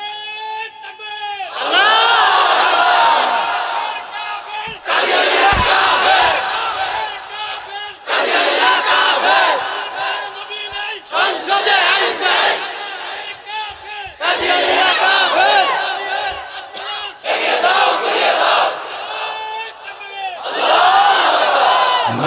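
A large crowd at an Islamic religious sermon roars the takbir in loud unison, several long bellowed chants separated by short pauses, close and powerful.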